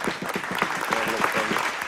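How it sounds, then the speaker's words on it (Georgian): An audience applauds on a television quiz show, with dense, even clapping that holds steady for a couple of seconds while a voice carries over it. "აპლოდისმენტები"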